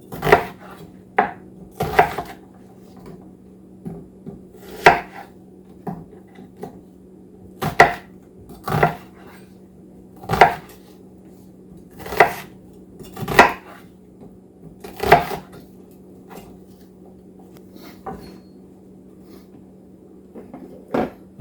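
A knife dices onions into large pieces on a cutting board, producing sharp, separate chopping knocks at an uneven pace, some louder than others, close and without any talk.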